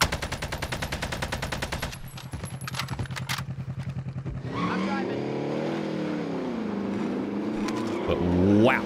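A vehicle engine in Call of Duty: Warzone, opening with rapid machine-gun fire that stops, then an engine that revs and surges with rising and falling pitch, loud and close, with a voice talking over part of it.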